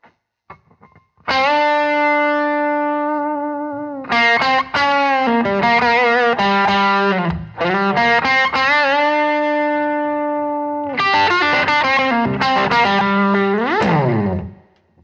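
A distorted electric guitar plays a blues lick: sustained bent notes and short phrases separated by brief pauses, ending with a sliding flourish, heard alone.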